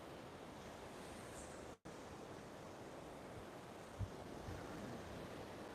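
Steady roar of ocean surf on a Sanibel Island beach with foamy water, continuous broadband wash with wind noise and a brief dropout, no speech.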